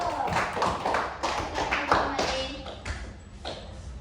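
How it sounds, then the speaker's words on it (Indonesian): Clapping from a classroom audience during a guidance-lesson competition at UIN BSK, uneven bursts of hand claps and taps from a small group, fairly close, with a voice heard among them. "Dan tepuk tangan untuk Umi dulu."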